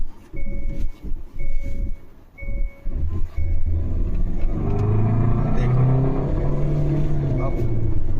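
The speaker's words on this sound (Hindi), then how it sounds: "देखो ये आवाज़ आ रही है चलती गाड़ी।" A moving car with an engine mounting problem gives an abnormal noise resembling a turbo pipe leak, heard as repeated surging engine bursts and then a loud, continuous rumbling drone.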